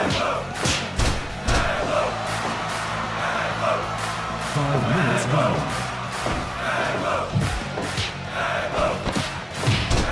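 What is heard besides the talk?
wrestling crowd cheering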